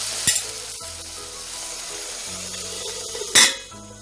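Shallots and ginger-garlic paste fry in a pan with a steady, moderate sizzle, broken by two sharp bursts of hissing as the mixture is stirred or moisture hits the hot oil.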